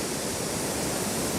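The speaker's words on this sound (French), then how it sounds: "le vent et les vagues rendent la promenade très dangereuse" Storm wind and crashing waves along the Baie des Anges seafront during a storm, a dense, continuous roaring wash of noise with no breaks, loud and close.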